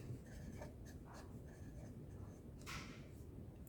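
Pen strokes on paper as class intervals are written out by hand for a math exercise, soft scratchy bursts close by with a brief louder stroke near the end, over quiet room noise.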